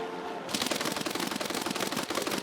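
A B-17G bomber's defensive guns fire at an attacking Yak-3 in a flight combat video game, a sudden loud, dense, rapid-fire machine-gun burst that starts abruptly and continues steadily.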